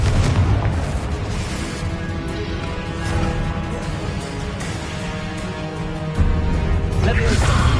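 A Confringo spell explosion in the Hogwarts Legacy video game booms loudly over dense game music and effects, with a sharper burst near the end, continuous and full rather than isolated.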